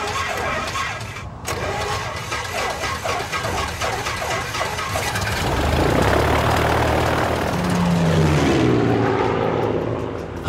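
A single-engine Piper PA-18 Super Cub flies over Alaska, its propeller engine droning steadily and close, with rhythmic rattling pulses early on and the engine growing louder and rougher toward the end.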